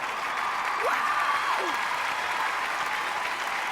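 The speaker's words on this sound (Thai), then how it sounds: "มาเอาปรบมือได้ทีนึงครับ" Brief, steady applause from an audience for young musicians at a music audition, continuous crowd clapping with a faint tonal whistle-like sound briefly audible over it.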